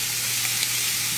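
Ground meat for stuffed peppers sizzles and fries in a pot, a steady, dense hiss filling the whole moment with faint crackles and no talking.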